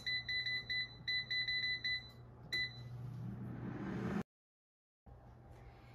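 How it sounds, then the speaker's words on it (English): An air fryer signals the end of cooking with a run of short electronic beeps in quick groups, close and clear, followed by a fan hum winding down and a brief silence. "Now the air fryer is done cooking,"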